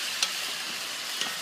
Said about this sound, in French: faire brunir un peu la viande avant de commencer à ajouter les autres ingrédients